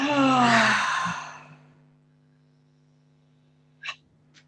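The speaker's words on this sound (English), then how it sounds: "And breathe it out" A deep, breathy exhale during guided meditation breathing, loud and close, fading into a faint steady hum, with a brief soft breath sound near the end.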